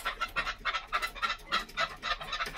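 A pet songbird in the middle of its molt calls close by in a quick, rhythmic series of repeated chirps, with no talk over it.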